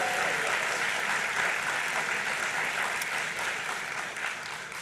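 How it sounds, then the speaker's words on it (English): Sustained, loud applause from the audience at a Master of Public Health graduation convocation, a dense, even roar of clapping that tapers slightly toward the end. "Give one more round of applause again to the 2022 MPH online cohort."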